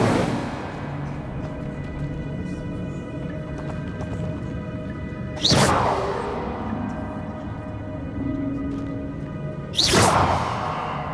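A fire spell cast twice in the Hogwarts Legacy game, each a sudden loud whooshing burst about four seconds apart, rising out of a steady game soundscape of hoofbeat-like clopping and low rumble.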